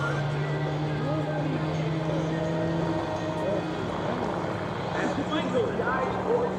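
A propeller-driven aerobatic airplane performs at the EAA AirVenture 2024 air show, a steady engine and prop drone with shifting pitch sweeping through a continuous, moderately distant roar, with crowd or announcer speech faintly mixed in.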